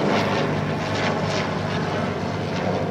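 Vintage aircraft at the Hahnweide oldtimer air show, a loud continuous engine drone with broad roaring noise that holds steady throughout, close and unbroken, with no voices.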